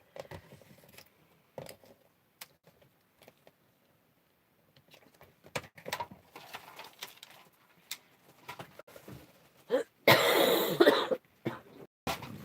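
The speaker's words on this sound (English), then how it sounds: "Oh, goodness me, I'm so sorry about this cough." A loud, harsh burst of coughing near the end, close to the mic, after a stretch of quiet rustling and scattered faint noises.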